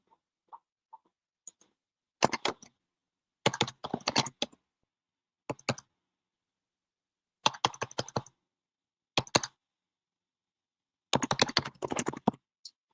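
Someone types on a computer keyboard in short separate bursts of quick clicks with silent gaps between them, close and clear with no talking.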